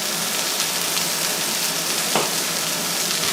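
Kerrygold garlic and herb butter sizzles in a frying pan, a steady, close hiss of crackling fat that holds at an even level throughout, with no one speaking.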